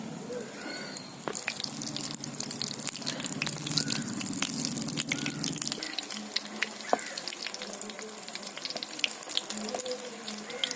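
Batter-dipped green chillies for mirchi bajji go into hot oil one after another, setting off a hissing, bubbling sizzle marked by sharp crackles and pops, with a faint voice in the background.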